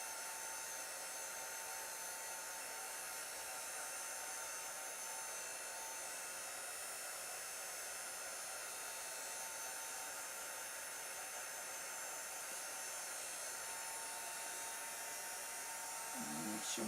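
A hair dryer blows steadily on a Chalk Couture craft piece to dry the chalk paste, a constant close whir that holds unchanged throughout, with a brief faint rustle near the end.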